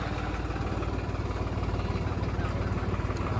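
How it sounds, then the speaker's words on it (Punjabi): A tractor engine idles at a rural fair near a gurdwara on a rainy, muddy day, a steady low rhythmic chugging that runs close and unbroken throughout. "ਆ ਹੁਣ ਟਰੈਕਟਰ ਵੀ ਲਿਆ ਏ ਕੁਝ ਗੱਡੀਆਂ ਕੱਢਣ ਨੂੰ"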